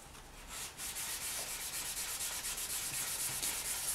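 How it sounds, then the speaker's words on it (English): Polymer clay being sanded by hand with sandpaper, a steady, close scratchy rasp of rapid back-and-forth strokes running continuously with no voices. "So just give it a good sand, to get rid of all those little bits and pieces you don't want this grimy"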